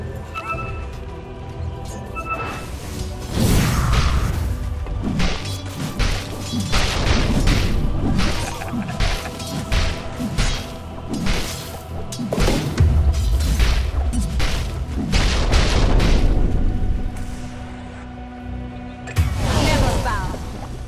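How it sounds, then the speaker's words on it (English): A Dota 2 match plays out with a tower under attack: a dense stream of crashes, thuds and whacks that swell and fade in bursts over a busy game soundscape, with no talking. "Radiant's middle tower is under attack."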